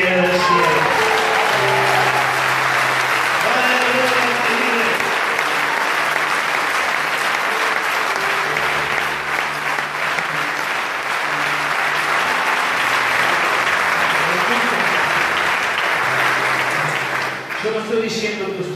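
Church congregation at a Wednesday service applauding loudly and continuously for nearly the whole stretch, with a voice speaking over the clapping.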